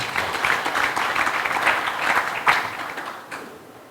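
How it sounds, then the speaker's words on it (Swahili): A crowd applauds steadily for several seconds, a dense wash of clapping that gradually fades out toward the end. "Makofi mengi tafadhali."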